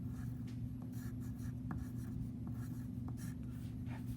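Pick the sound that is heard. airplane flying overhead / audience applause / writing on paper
writing on paper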